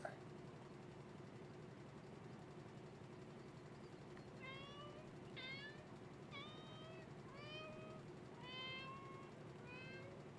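A cat meows repeatedly in the video game Copycat, a string of short rising and falling calls spaced about a second apart over a steady low game soundtrack, with a voice talking.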